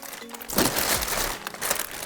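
Thin plastic of a vacuum storage bag for clothes crinkles and rustles loudly up close in a few bursts as the bag is handled.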